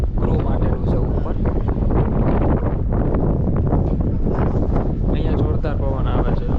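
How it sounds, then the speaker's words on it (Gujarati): Strong, cold wind buffets the open deck of a cross-Channel ferry near the crew smoking area, producing a heavy, continuous low roar and microphone rumble, with a voice partly buried under the gusts. "અહીંયા જોરદાર પવન આવે છે"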